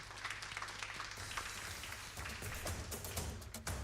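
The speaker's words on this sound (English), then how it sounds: "a round of applause for them" An audience at a Romanian venture forum claps as a startup team is invited on stage, a soft, fairly distant patter of steady applause.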